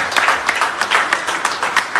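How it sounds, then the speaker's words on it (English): Audience applause at a primary school graduation ceremony, a dense, loud burst of clapping from many people that carries on steadily, with a few individual claps standing out. "let us put our hands together for the entire report that the principal gave"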